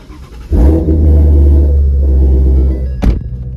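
A Shelby GT350 with an aftermarket Ford Performance exhaust fires up close by, the starter giving way to a loud, deep rumbling idle that holds steady, then a sharp thunk near the end.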